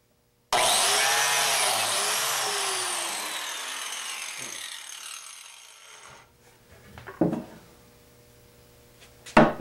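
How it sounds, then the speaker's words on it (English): A biscuit joiner's motor whines loudly for several seconds while cutting a slot in a wooden piece for an Arts and Crafts panel bed, its pitch sliding down as it winds off, followed by a few sharp clunks as the tool is set down. "bring the biscuit joiner up, align where it needs to go"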